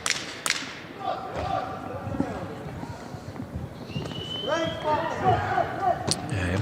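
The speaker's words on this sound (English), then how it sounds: "Nice body shot combination there." Punches land to the body in a women's professional boxing bout, a few sharp thuds over steady arena noise and background voices.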